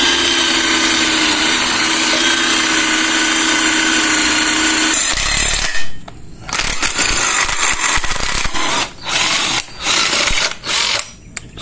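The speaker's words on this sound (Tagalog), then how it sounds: "kayang-kaya po nitong ating impact wrench / electric drill yung pagbutas ng bakal" An impact wrench fitted with a drill adapter bores through steel: a steady high motor whine for several seconds, then harsher grinding with stops and restarts as the bit cuts, close and loud.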